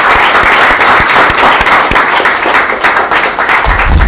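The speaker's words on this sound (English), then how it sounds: "let's give Rassidatou a round of applause in absentia" A crowd at an academic social change awards ceremony claps loudly and steadily, dense applause from many hands with individual claps standing out close by, continuing without any talk.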